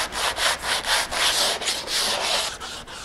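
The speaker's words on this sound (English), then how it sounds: "sanding block that's got some 80 grit sandpaper on it" Rhythmic back-and-forth sanding of epoxy fairing filler with a long sanding block and 80-grit sandpaper, a loud gritty rasp repeating in steady strokes roughly three or four times a second, close up.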